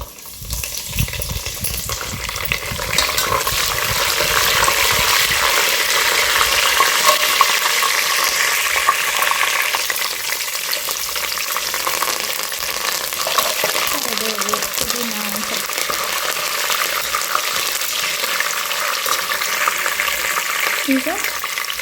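Pulao with bay leaves frying in a pan on a stove turned up to a high flame, giving a loud, steady sizzle with stirring scrapes throughout and no talk.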